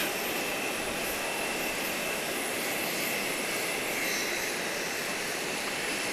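Jet airliners taxiing, landing and taking off at Grand Cayman's airport, a steady loud roar of aircraft engines filling the whole stretch with no break and no voices.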